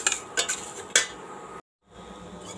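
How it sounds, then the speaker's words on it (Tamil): Black urad dal is dry-roasted and stirred in a pan, giving a few scraping, clinking strokes of a utensil against metal before a brief silent gap and a faint continuing hiss. "இப்போ நம்ம எடுத்து வச்சுருக்கிற கருப்பு உளுந்தை சேர்த்திக்கலாம். இதை ஒரே ஒரு நிமிஷம் நல்லா வறுத்துக்கலாம்."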